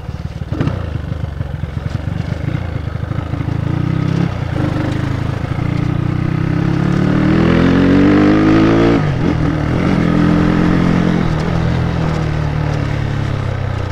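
A 237cc motorcycle fitted with a 32mm Koso carburetor revs hard, the engine note climbing steadily, peaking, then dropping back to a rough idle. It is loud and close, with no speech.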